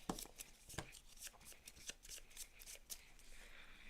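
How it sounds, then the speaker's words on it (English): Cards shuffled by hand at a tabletop during a Gloomhaven: Jaws of the Lion board game session, a string of crisp riffling bursts and soft snaps in a quick uneven rhythm, close by and fairly quiet. "Shuffle, shuffle, shuffle."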